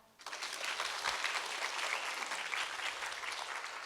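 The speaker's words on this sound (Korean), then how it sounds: "큰 박수 부탁드립니다" An audience breaks into applause for a guest film journalist at a humanities lecture, a dense and even round of clapping that starts abruptly and carries on steadily, heard from a little distance.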